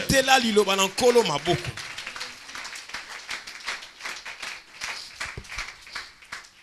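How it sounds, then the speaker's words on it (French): A church congregation applauds to acclaim the word of the Lord: a voice rings out briefly, then a scattered, fairly close round of clapping carries on steadily to the end. "Acclamons la parole du Seigneur"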